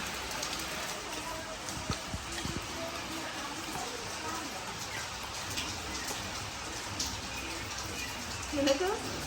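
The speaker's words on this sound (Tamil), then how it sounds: "மழை பெய்யுது" Steady rain falls outdoors as a constant broadband hiss with scattered drop hits, with a few louder knocks near the end.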